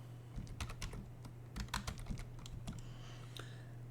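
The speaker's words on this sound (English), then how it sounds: "So I'm gonna type yum" Computer keyboard typing a Linux install command, a close run of quick irregular key clicks in short bursts over a low steady hum.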